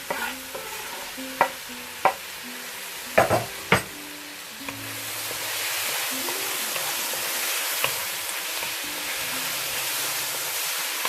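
Ginger tipped into a hot pan for home-style chicken and stirred, with a few sharp utensil clanks at first, then a loud, continuous sizzle with scraping stirs, no talking.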